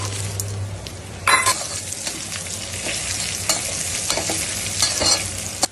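Mixed dry fruits with cashews and almonds stirred and roasted in butter for sukhdi, with a steady close frying hiss broken by repeated spoon scrapes and clinks against the pan.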